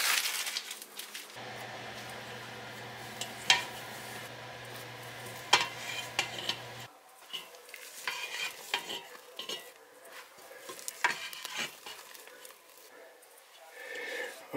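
Butter and marshmallows melting in a pot, with a soft sizzle and spoon stirring and scraping against the pot, close up, with occasional clinks and talk in places.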